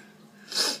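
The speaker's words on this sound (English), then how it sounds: "I feel like I got to sneeze." A single short, breathy sneeze from a woman, fairly close and moderately loud, with no talking.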